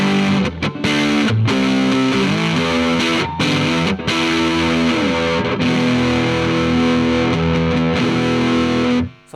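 Electric guitar pushed through a drive effect, with thick, saturated chords sustaining almost without a break, loud and alone.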